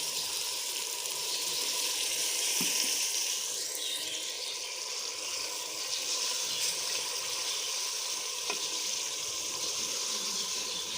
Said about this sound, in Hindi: अब जो है हम इसमें पानी ऐड करते हैं